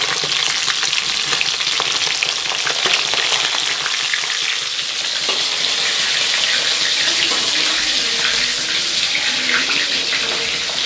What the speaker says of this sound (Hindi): तो ये मछली हो गया है फ्राई यहाँ पे